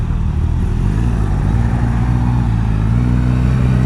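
The engine of a 2024 Suzuki GSX-S1000GX motorcycle revs while pulling away on wet roads, a loud, close, steady mid-pitched drone with a slight rising push and no voices.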